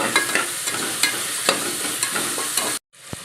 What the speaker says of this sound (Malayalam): എല്ലാം ഒന്ന് നന്നായിട്ട് വഴന്ന് വരട്ടെ.